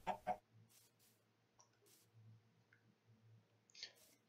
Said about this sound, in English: Chicken, get back here!